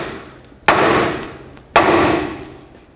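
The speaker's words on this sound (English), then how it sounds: "with a hammer on the knuckle, that should break the tie rod free from the knuckle" A hammer strikes the steering knuckle of a 2003-2021 Chevrolet Express to free the tie rod: two loud, sharp metallic blows about a second apart, each leaving a ringing clang that decays.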